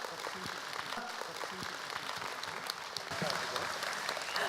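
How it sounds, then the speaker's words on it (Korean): Sustained audience applause at a traffic-culture talk show event, steady clapping from a crowd filling the room for several seconds and swelling slightly louder toward the end. "박수 부탁드리도록 하겠습니다"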